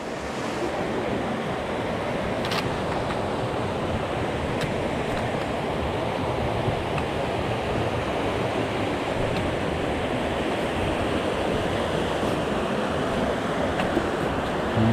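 Laurel Fork Falls in Tennessee pours in a steady, broad roar of rushing water that fills the scene without a break. Faint clicks and light wind buffeting on the microphone sit on top, and no one speaks.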